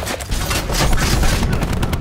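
Stun grenades burst in a rapid cluster during a Call of Duty Black Ops 4 multiplayer match, loud overlapping bangs and crackling that fill the whole stretch.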